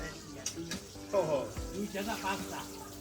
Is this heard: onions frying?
yes